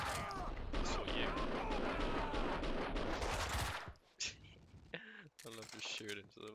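Rapid, loud gunshots and heavy firing from the video game Max Payne 2 fill the first four seconds, followed by scattered game effects and voices.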